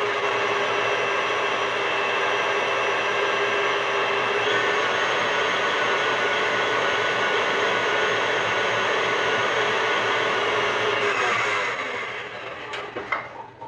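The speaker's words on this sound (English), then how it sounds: "I'm going to mix this on the mixer until it becomes very light and very pale yellow" An electric stand mixer beats eggs and sugar for a Queen of Sheba cake, giving a loud, steady motor whir that runs unbroken for about eleven seconds before winding down.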